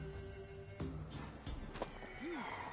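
A horse, a mare, in The Witcher 3 video game, is heard through game ambience with a few hoof knocks and a brief whinny-like call near the end.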